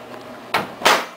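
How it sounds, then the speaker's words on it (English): Two short thuds in quick succession as a microwave door is pushed shut and latches, close and fairly loud. "Close your microwave."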